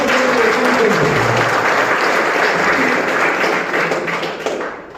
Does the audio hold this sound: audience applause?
yes